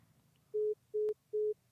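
Three evenly spaced electronic telephone line beeps, each about a fifth of a second, sound over a faint low hum during a radio call-in show, with a brief click between the second and third tones.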